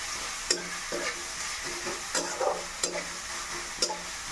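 Ginger garlic paste sizzles softly in oil spiced with whole spices while a spoon stirs it, sending out repeated sharp scraping strokes over the steady frying hiss.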